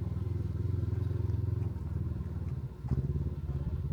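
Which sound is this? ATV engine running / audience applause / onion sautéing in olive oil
ATV engine running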